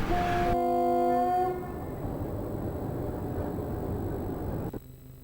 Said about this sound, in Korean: 지난 시기에는 자동차로 수송하던 파철 수송을 이렇게 열차로 조직하게 되었습니다